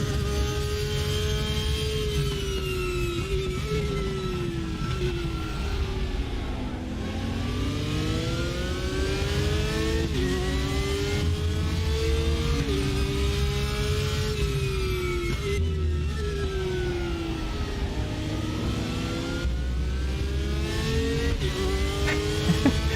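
A Porsche race car engine in the RaceRoom Racing Experience video game revs high and steady, pitch climbing and dropping through repeated gear changes, loud and continuous with no talking.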